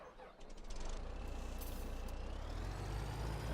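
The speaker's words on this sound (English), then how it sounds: "So what I'll do is I'll just back up the truck" A truck in the Farming Simulator 17 video game backs up on a farm, its low engine rumble holding steady at a faint level with a brief hiss near the start.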